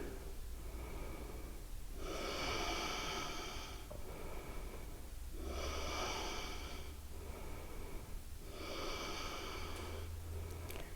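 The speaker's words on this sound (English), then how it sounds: "Breathing deep." Deep, slow yoga breaths taken in a seated twist during a gentle vinyasa flow: three long, close breathy rushes, evenly spaced, with soft pauses between and no talking.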